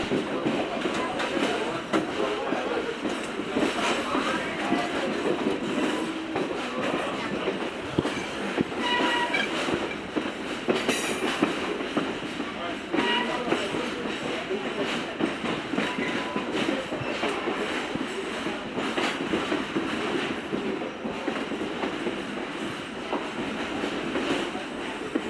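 An Adirondack Scenic Railroad train, with New York Central 8255 Alco RS3 and 705 EMD locomotives, pulls out of the yard. A steady rumble of rolling wheels and cars continues for the whole stretch, with faint talk under it.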